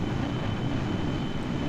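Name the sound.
space plane engines in Kerbal Space Program video game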